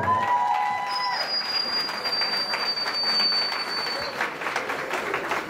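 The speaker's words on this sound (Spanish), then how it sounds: "Es una bendición fuerte el aplauso." Guests applaud at a quinceañera blessing in an event hall, a steady round of clapping at moderate distance, with a thin high whistle-like tone sounding partway through.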